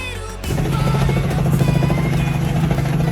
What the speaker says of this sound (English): What is it about helicopters hovering close to me today?